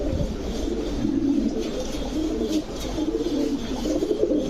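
Pakistani Garra and Lahori breed pigeons coo steadily and close by, low throaty calls rolling on over one another without a pause.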